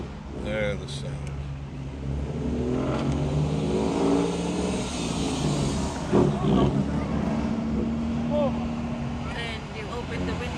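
A rat rod car idles and revs at a Friday night rod run, its engine rumbling steadily under nearby talk and crowd chatter, swelling briefly mid-clip.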